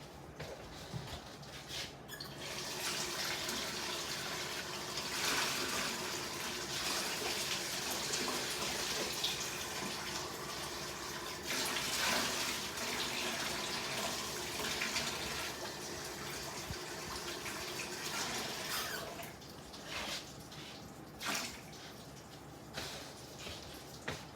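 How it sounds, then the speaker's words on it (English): Hot water pours from a tap into a bowl holding flour and yeast for dough, a steady splashing rush that runs for about twenty seconds before tapering off, with a few clinks near the end. "We're gonna put hot water in here."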